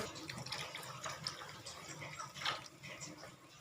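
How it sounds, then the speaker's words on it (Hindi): Water pours into a pan of onion gravy in a continuous, close splashing stream of moderate loudness, with no clear talk. "ग्रेवी बनाने के लिए 2 गिलास पानी शामिल करेंगे इसके अंदर"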